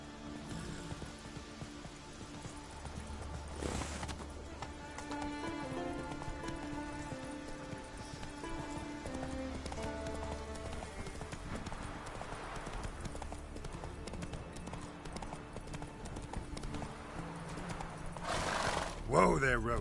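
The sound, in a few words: horse Roach galloping and neighing, from a video game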